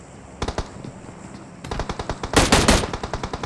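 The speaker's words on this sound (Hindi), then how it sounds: "मशीन गन भाई M249 है" An M249 machine gun fires in the PUBG Mobile video game: a short burst, a pause, then a long rapid stream of shots that peaks in a loud dense volley, heard alone.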